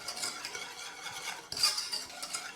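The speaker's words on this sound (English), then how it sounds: "whisk in your cocoa powder to your butter" Cocoa powder being whisked into butter, a steady scraping and stirring churn in a bowl, close and continuous with a brief louder clink partway through.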